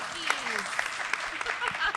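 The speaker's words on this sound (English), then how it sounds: "let's give him a round of applause, please." A crowd claps steadily for a couple of seconds, with voices and cheers mixed into the applause.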